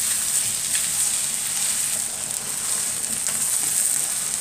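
Sausages frying in a pan produce a dense, even sizzle and crackle, loud and close, holding steady for a few seconds with slight shifts as they are turned, and no one speaking.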